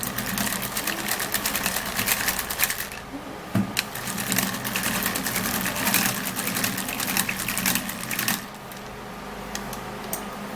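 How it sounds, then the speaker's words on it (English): A manual hand mixer churns a homemade face mask mixture, a loud, close, continuous rattling whir that runs steadily for about eight seconds before easing off. "better use manual mixer to mix this"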